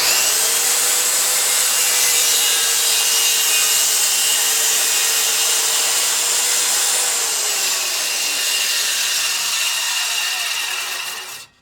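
A Dewalt DWE576K circular saw makes a 57-degree angle cut, giving a loud, close, continuous whine with a faint wavering pitch that cuts off abruptly at the end.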